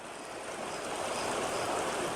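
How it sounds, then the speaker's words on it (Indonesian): River water rushing and flowing among large boulders, a steady, full broadband roar with no pauses, close and continuous for the whole stretch, no voices. "batu-batu yang begitu besar, begitu banyak, yang di sana ada air yang mengalir rupanya"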